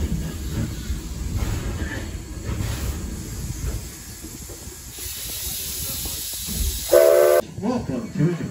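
A 4-4-0 Edison steam locomotive at Greenfield Village Railroad, with steady hiss and rumble of a moving train, a brief whistle-like tone near the end rising above the continuous running noise.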